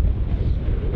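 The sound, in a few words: wind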